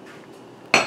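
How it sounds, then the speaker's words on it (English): A glass canning jar is set down on top of other jars inside a canner. After a near-quiet stretch there is one sharp glassy clink, close and bright, with a brief ringing tail. "I'll set my other jars on top of that"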